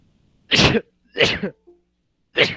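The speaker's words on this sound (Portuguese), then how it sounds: "Perdoe aí meus 500 espirros, que eu espirro muito." Three sharp sneezes burst out close up, evenly spaced in quick succession, with quiet pauses between them.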